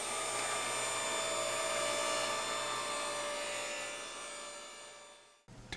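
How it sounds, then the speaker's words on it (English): Table saw ripping MDF-thickness edge banding for veneered lounge chair panels in a workshop: a loud, steady whining saw roar that holds, slowly fades as the cut ends, then cuts off abruptly, with no talking. "I can then rip down the edge banding at the table saw."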